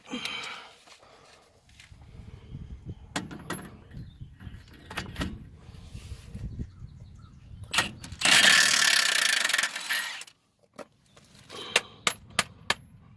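An impact wrench removes front end parts from a square body Chevrolet Suburban during a lift kit install. Scattered mechanical clanks and clicks lead to one loud, sustained burst of about two seconds, followed by more sharp metallic ticks.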